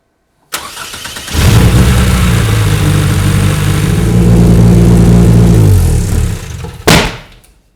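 A Toyota 2.7L 1AR-FE engine fitted in an MR2 cranks briefly, catches and runs loudly and close for about five seconds, then shuts off with one last short burst before falling silent.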